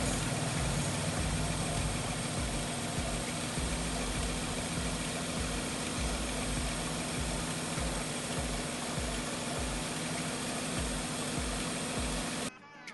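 A Nissan Cefiro A32 2.0 automatic engine idles steadily with a low, even rumble throughout, close by, then cuts off abruptly at the very end.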